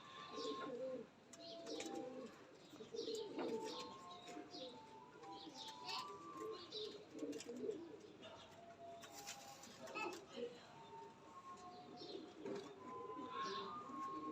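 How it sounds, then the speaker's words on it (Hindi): Several Sialkoti pigeons, three males and three females, coo softly and steadily in a low, repeated murmur. Occasional chirps and a faint voice sound in the background. "ये ओरिजिनल सियालकोटी 35 वाले कबूतर हैं"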